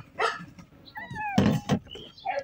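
A short, close cat meow with a rising then falling pitch, surrounded by brief rustling and a few other soft noises.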